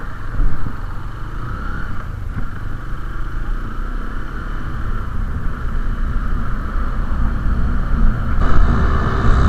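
A Haojue DK 160 motorcycle being ridden on the road, its engine droning steadily with loud wind rush that swells slightly toward the end, no talk.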